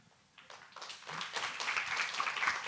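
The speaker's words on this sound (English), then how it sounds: "Can we give a big round of applause to our amazing storyteller for this morning, Bijal Vachharajani." A morning audience at a storytelling session with children breaks into a round of applause, starting faint and building to a dense, steady wash of clapping from many hands.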